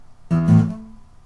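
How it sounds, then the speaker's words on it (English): Two low bass strings on a guitar plucked with the thumb in quick succession, ringing briefly before fading, close and clear with no talking. "we hit the first two basses in quick succession with our thumb,"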